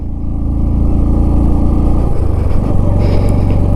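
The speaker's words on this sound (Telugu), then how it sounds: "లారీలు కూడా వెళ్తున్నాయి" Heavy lorries rumbling past on a mountain road in Ladakh, a loud, close, continuous low engine drone that shifts in pitch midway as one vehicle passes and another follows.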